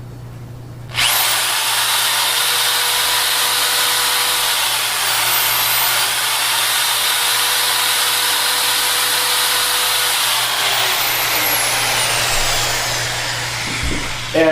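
A power drill bores holes into a wooden wing chair rail for spring up nails, a loud, steady high whine running continuously after a sudden start, with no talking.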